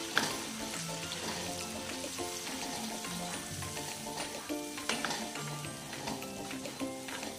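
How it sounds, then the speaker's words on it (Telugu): Tomato paste is stirred into frying gongura chicken, giving a continuous moderate sizzle with scattered scraping stirs, partly blended with background music. "దాన్ని కూడా వేసేస్తున్నాను నేను. వేసి ఒకసారి బాగా కలుపుకుందాం."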